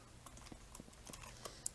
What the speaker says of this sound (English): Just the taps of your spacebar, those matter.